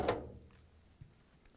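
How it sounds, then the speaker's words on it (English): The lint screen is pulled out of a Whirlpool dryer with a quick sliding scrape at the start, followed by a faint knock and light clatter in a quiet room. "and remove the lint screen"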